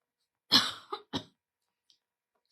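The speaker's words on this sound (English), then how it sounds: "It makes me cough." A single harsh cough from throat drainage, followed by a second shorter cough, close and fairly loud, then near silence with a faint breath at the end.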